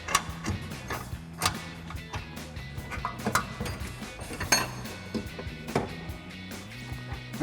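Metal bolt and washer clinking and scraping against a Toyota Tacoma's suspension parts during a lift kit install, with scattered close taps and rattles over a low mechanical background.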